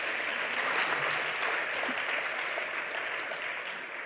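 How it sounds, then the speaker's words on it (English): Audience applause at an adventure writing prize awards ceremony, a dense, even patter of many hands heard at moderate distance and gradually tapering off. "I think that round of applause should also go to the librarians and volunteers"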